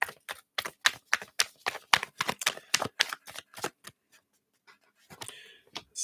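A deck of tarot cards is shuffled up close in a run of crisp, rapid clicking and flapping bursts, each card-slap sharp and distinct. The run is followed by a few softer rustles and a brief handling noise.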